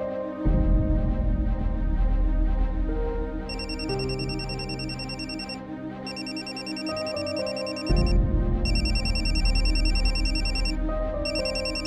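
A phone ringtone playing for an incoming call, loud and steady, a repeating melodic pattern with bright bell-like tones in cycles of a few seconds.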